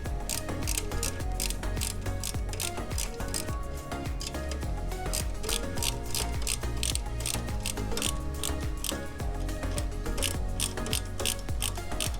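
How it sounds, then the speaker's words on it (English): Ratchet tightening the last bolt on a Royal Enfield Himalayan BS6 touring accessory, a rapid run of close, crisp clicking strokes repeating steadily throughout with no talking. "now I am tightening the last bolt."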